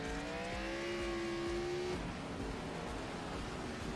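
Dirt track race cars run side by side down the front stretch on a muddy track, engines droning and revving before easing off, heard from a distance with no voices.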